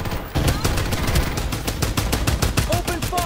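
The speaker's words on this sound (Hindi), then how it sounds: "ओपन फायर भाई" Rapid automatic gunfire in Farlight 84, a steady stream of evenly spaced shots at close range, loud and continuous for a few seconds.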